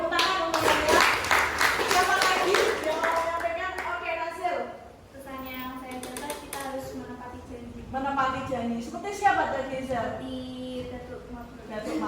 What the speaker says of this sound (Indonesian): Oke, tepuk tangan juga untuk Anda.